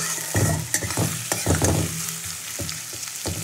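Chopped onion frying in hot oil for a home-style chicken biryani, a close, steady sizzle broken by scraping stirs and a few louder bursts as the pan is worked, with no talking.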